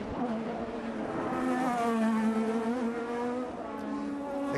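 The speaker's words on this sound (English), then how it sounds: "Accelerating these last couple of tricky corners" A 2018 IndyCar race car accelerates through the last corners of the Detroit Grand Prix street circuit, its loud, continuous high-pitched engine howl climbing and easing as it works through the turns.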